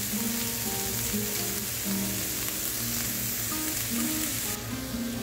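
Vegetables for Schezwan veg hakka noodles sauté in a hot pan with a loud, continuous sizzle, a constant frying hiss layered with occasional stirring scrapes.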